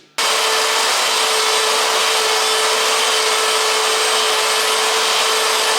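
A power grinder works steadily on a differential setup bearing for a GM 12-bolt ring and pinion, giving a loud, continuous high whine and hiss that starts abruptly and holds without pause.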